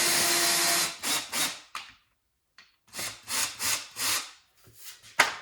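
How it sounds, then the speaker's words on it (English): A power drill whirs through wood in two bursts separated by a short silence, loud and close, ending with a sharp clunk. "let's just drill a couple of these"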